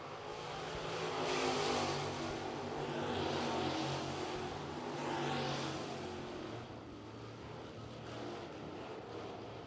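Dirt track Crate Sportsman race cars roaring around Lancaster Motor Speedway during a heat race, engines swelling loud as the pack passes and fading between, a steady distant rumble of several cars under open-air crowd ambience.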